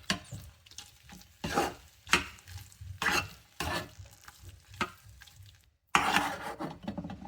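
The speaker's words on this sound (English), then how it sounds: "And give it a good mix" Sakkara pongal, a sweet rice and lentil pudding topped with garnish, is stirred in a pan, with repeated loud scraping strokes in an uneven rhythm, a brief pause, then another vigorous stir, close and without talking.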